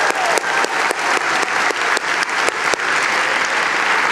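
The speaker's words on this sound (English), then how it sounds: "Give yourselves a round of applause." A room full of people claps steadily and enthusiastically, the dense applause holding at an even volume throughout with a few sharper individual claps standing out.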